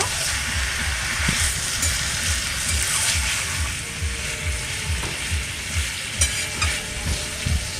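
Mutton masala frying in a pan with steady sizzle, punctuated by scraping, clicking strokes of a spoon being stirred through it, close and continuous with no talking.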